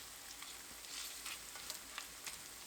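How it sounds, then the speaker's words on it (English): Canned bacon sizzling softly in a pan as a silicone spatula breaks it up, giving quiet crackling with light scraping strokes, close and faint. "I just break it up, and you can see with a silicone spatula, I can break it up however I like it."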